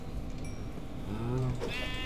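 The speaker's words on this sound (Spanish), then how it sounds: "Uy, ovejas." Sheep bleat in a Minecraft-style game, one clear close bleat rising briefly over a steady background of game ambience.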